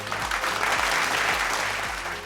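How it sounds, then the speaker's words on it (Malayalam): An audience claps warmly after a former Calicut University and Kerala State Youth chess champion is introduced at a chess session in Kozhikode, a continuous, fairly close round of applause with no talk. "ഒരു വലിയ കയ്യടി"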